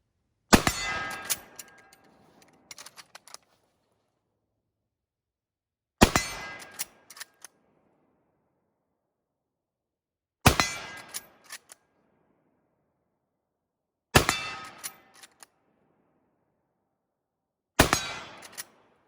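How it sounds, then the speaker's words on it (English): An Arisaka Type 38 rifle in 6.5 Japanese fires five spaced shots, each a sharp crack followed by a ringing metallic clang from a distant steel plate, with quiet gaps between rounds. "Let's go ahead and take a few shots at this steel plate out here."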